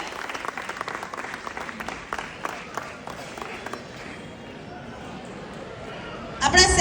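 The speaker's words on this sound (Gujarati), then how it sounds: "બધા થોડાક તાળીઓનો ગડગડાટ રાખજો" An audience at a Saurashtra Patel community event in Australia claps as a sponsor walks up to the stage, a dense patter of applause that thins out midway and then swells again toward the end, with a voice over it.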